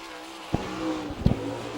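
Sprint car number 92 from Fremont, Ohio, on a qualifying lap at an All Star Circuit of Champions race in Attica, Ohio, heard as a steady engine roar with two sharp bursts that sound like passes or gear changes, and no talk.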